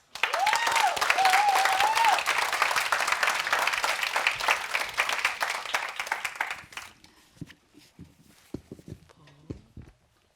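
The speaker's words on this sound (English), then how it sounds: "Please, everyone, give a warm round of applause for Dorcas." A warm round of audience applause for a speaker at a world forum story studio, steady and full for about seven seconds before it dies away and a voice starts talking.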